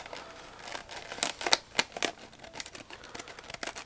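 Sharp scissors cut open a cardboard box up close, making a series of irregular snips and crisp crinkling with a few louder cuts and no talking.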